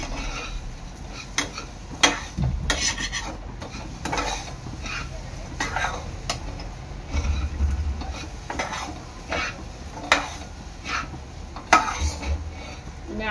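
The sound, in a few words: stirring sugar into coconut mixture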